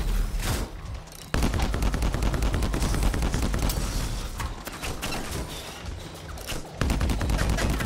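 Sustained video game gunfire aimed at a weak spot, a loud dense stream of rapid shots rattling almost nonstop, broken by brief pauses between long bursts.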